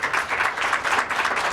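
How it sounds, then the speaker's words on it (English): Audience applause at a healthcare apprenticeship event, dense steady clapping from a crowd, fairly close and sustained throughout, no talk over it. "how about another round of applause for the employers"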